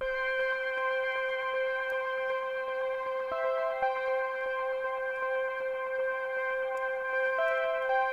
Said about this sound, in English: I've added a Taluno LX, a really warm sound.